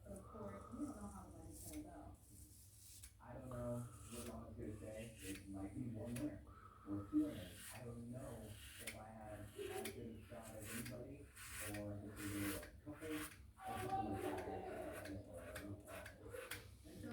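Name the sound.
shaving a head with a shavette razor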